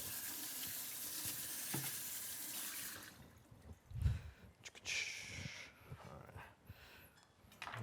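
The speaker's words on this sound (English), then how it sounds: "Rinse this knife real quick." A kitchen faucet runs and rinses a knife during cooking. Hissing water flows for the first few seconds, then gives way to clinks, splashes and handling noises.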